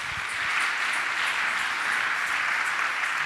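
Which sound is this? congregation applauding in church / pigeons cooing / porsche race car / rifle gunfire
congregation applauding in church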